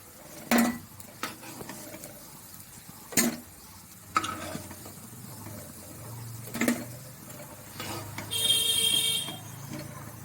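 Fried greens fritters being lifted from a pan, a few distinct metallic clinks of a utensil against the pan over a soft background sizzle, close by.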